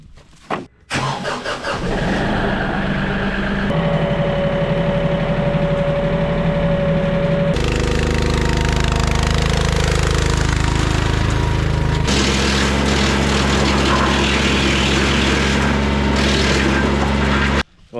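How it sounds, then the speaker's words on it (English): A wood chipper runs loudly and continuously at close range. Its droning engine and grinding tone shift several times as material is fed through, with no talking over it. "Well, I got a little greedy with the wood chipper."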